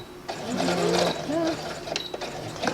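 A sewing machine runs a regular straight seam in fabric, its motor whirring in short bursts with mechanical clatter and small pauses between runs, close and fairly loud.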